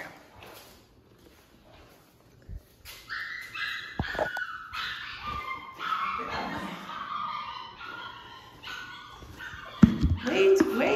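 Five-week-old Airedale puppies whimper and yip in short, high bursts, with soft shuffling and pawing on wood shavings nearby and occasional faint background voices.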